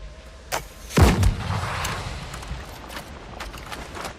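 A pistol fires in the video game Windrose: one sharp shot, then a louder booming blast with a rumbling tail. Fainter pops follow in the background.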